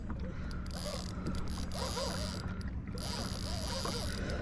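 A fishing reel is cranked aboard a kayak in Matlacha, Florida, giving a steady mechanical ratcheting whir with faint clicks over water and wind noise.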